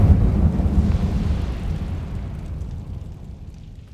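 A burst of fire from the Incendio spell in Hogwarts Legacy: a loud, deep whooshing roar that hits at once and slowly rumbles away over a few seconds, with no voices.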